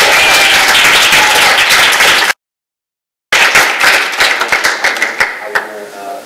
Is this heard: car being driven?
no